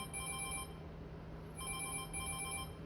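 A telephone rings in a theatre showcase scene, a faint electronic double-trill bell in two bursts separated by a short pause, heard alone without talk.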